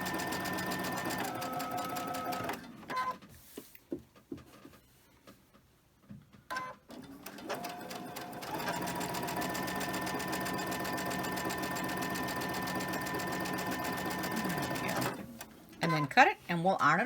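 Sewing machine chain stitching two fabric strips for a quilt, a steady rapid mechanical whirr that runs nearly continuously, pausing briefly mid-way between seams, with speech heard around it.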